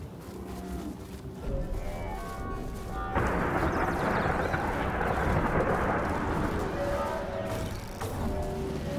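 A thunderstorm in the game Outriders rolls in as heavy rumbling thunder over steady rain, swelling louder midway and staying dense and close, with a faint voice underneath.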